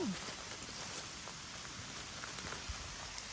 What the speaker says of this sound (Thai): ฝนตกค่ะก็ฝนตกมาก